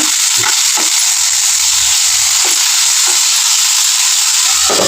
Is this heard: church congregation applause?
no